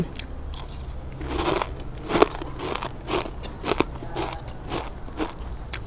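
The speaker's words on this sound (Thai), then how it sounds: "มาลองอีกตัวหนึ่งค่ะพี่น้อง ปลาล้าทอดกรอบสมุนไพร" Crisp fried fish with herbs, made from small local freshwater fish, crunched in repeated close bites and chews, a steady run of sharp crackly crunches with no talking.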